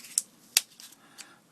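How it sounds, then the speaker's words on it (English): Scissors snip through a piece of Playmais corn-starch craft material in a few sharp, close cuts, with one crisp clip standing out among softer snips in a quiet room. "I like to cheat here and use some scissors"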